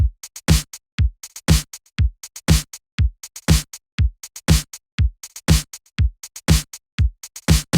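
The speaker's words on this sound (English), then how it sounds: "I'm gonna add my own hi-hat pattern that sounds like this." Programmed electronic hi-hat pattern, a crisp repeating loop of sharp ticks and longer open hits locked to a steady beat with punchy low kick-like thumps, loud and alone without talk.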